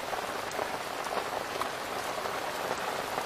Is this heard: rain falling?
yes